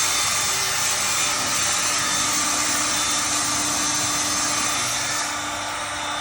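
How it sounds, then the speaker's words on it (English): A hot air gun blows steadily close by while heat-shield trim on a crashed Nissan Leaf is worked, giving a continuous airy hiss and roar that eases off slightly near the end. "Just with a hot air gun"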